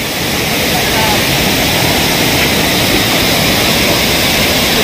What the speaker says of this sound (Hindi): बहुत बड़ा वाटरफॉल है यार